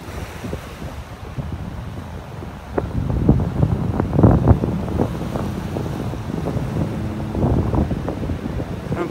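Rough ocean waves at high tide on a beach in North Naples, Florida, crashing and washing steadily up close, mixed with buffeting wind gusts against the microphone.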